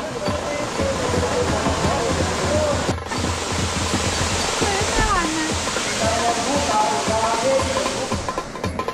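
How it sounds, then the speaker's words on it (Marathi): A powerful waterfall gushes steadily outside the Ekvira Devi temple at Karla during Navratri, its broadband roar filling the scene close by while a voice talks faintly underneath. "मागे तुम्हाला दिसतोय एकदम जबरदस्त असा खळाळून वाहणारा धबधबा"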